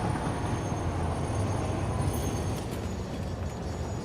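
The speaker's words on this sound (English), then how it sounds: "Come on, train, away we go." A moving train in the factory-building video game Satisfactory, with a steady, loud rumble of rolling wagons and rail noise that continues unbroken, with no talking over it.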